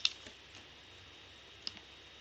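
Soft, sparse mouse clicks come from someone choosing options on the Bihar Bhumi land records portal. A few faint, separate taps sit over a low, quiet room hum, and nobody speaks.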